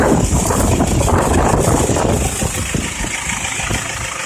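A car rolls downhill in neutral, its engine running at a steady, low idle beneath loud rumbling road and wind noise that stays continuous and close.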